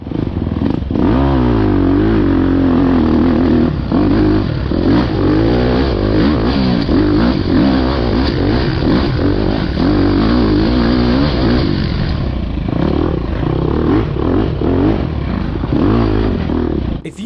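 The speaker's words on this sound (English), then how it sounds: "But I want you to listen to the bike up this hill." An enduro motorcycle engine revs hard and continuously while climbing a hill during an enduro race, loud and close, its pitch rising and falling with the throttle and gears over a rough rattle.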